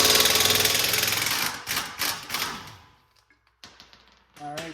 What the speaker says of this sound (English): You can use a breaker bar, an impact gun. Doesn't really matter. I just prefer to use impact